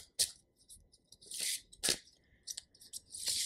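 A deck of cards is riffled and shuffled in several quick, crisp bursts of flapping paper, close up with short pauses between.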